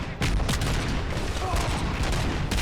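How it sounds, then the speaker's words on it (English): Rapid gunfire from the RoboCop Rogue City video game, a dense continuous burst of loud shots and impacts with sharper cracks standing out, with a voice faintly beneath. "I am apparently shooting Lewis in the back of the head."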